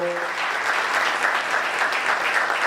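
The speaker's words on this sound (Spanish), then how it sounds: "Un minuto de aplauso a la memoria de Acevedo," Steady applause from a conference audience, a minute of clapping in memory of someone, continuous throughout at an even, fairly loud level.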